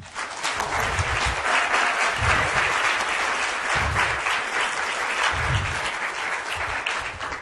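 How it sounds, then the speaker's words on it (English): Loud, sustained applause from a large audience at a science workshop lecture, dense clapping that holds steady throughout with no voices on top. "I think Bennett deserves an extra applause for this."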